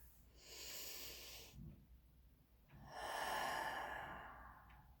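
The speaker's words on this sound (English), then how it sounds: "let's do a deep breath in" Slow, deep breathing during a guided meditation: a soft airy breath followed by a longer, fuller one, close to the microphone but very quiet, with no talking.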